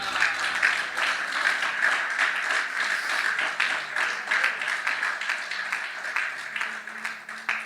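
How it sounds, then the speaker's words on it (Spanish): Sustained applause from a church congregation, a dense rhythmic clapping that stays loud and even for several seconds, with faint voices mixed in. "Denle un aplauso al Señor."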